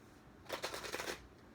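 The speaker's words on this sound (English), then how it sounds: "let's do one more shuffle here" A quick burst of tarot card shuffling, a rapid riffle of crisp flicks lasting under a second, close by with no talking.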